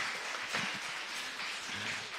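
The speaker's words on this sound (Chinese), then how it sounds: "我们再给他们一次掌声啊！" A church congregation at a Taiwanese-language Sunday service claps in a dense, sustained round of applause, soft and slightly distant, with no talking over it.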